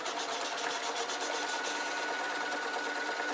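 A sewing machine runs steadily while stitching a waistcoat, a fast even mechanical whirr with rapid needle clatter, close and continuous with no pauses.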